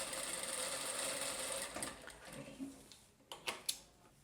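A sewing machine stitching the folded hem of a skirt, running in a fast continuous whir for a few seconds and then slowing to several separate stitch clicks at close range, no voices.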